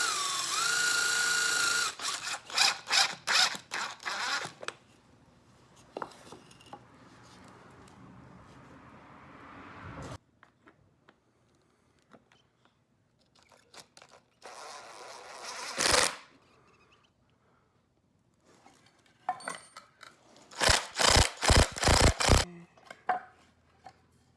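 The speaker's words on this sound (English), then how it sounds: "I am going to countersink this hole quite a bit to get some penetration" A power drill countersinks a hole while a Nissan 180SX seat is turned into a garage seat. It comes in loud, close bursts of whirring, some long and some quick, with near silence between them and no talking.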